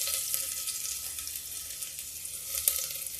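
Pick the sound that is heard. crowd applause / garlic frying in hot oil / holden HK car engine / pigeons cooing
garlic frying in hot oil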